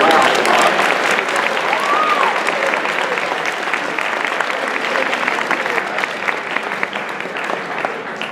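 A school audience at a poetry recitation event gives Mr. Brown a round of applause: dense, steady clapping that fills the room and holds at a constant level from start to finish.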